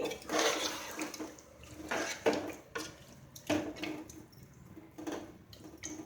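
Water splashes into a pot of chicken biryani in a pressure cooker in several short, uneven pours, fairly quiet and close, with brief pauses between them.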